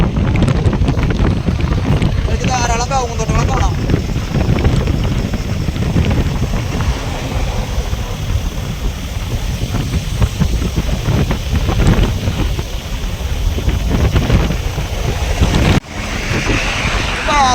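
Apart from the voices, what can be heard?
wind blowing on a truck journey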